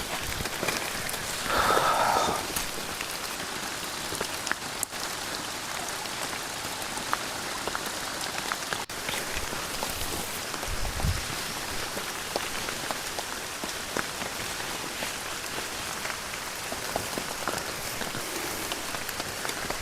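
Heavy rain pours steadily in the jungle during a violent storm, a dense, even patter on surfaces that continues throughout with only a few louder drops and knocks.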